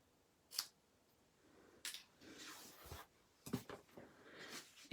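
Scissors cutting cardstock for a papercraft birthday card, a few short, sparse snips, close but quiet, in an otherwise hushed room.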